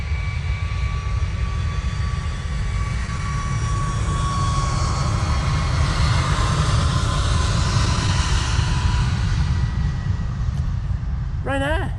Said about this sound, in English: Ryanair 737 MAX 8. Now blasting out.